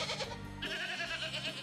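Goat bleating in the Plants vs. Zombies video game, a wavering nasal bleat heard clearly and loudly on its own, with a second bleat following after a brief break and no talk over it.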